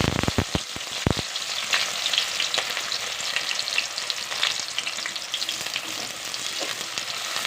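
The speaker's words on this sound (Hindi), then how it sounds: "तेल गरम हो गया है, बहुत अच्छा सा गरम हो गया है। तो ये प्याज डाल देंगे।" Chopped onions hit half a cup of hot oil and sizzle loudly and steadily, with a few sharp clatters at the start as they drop into the pan.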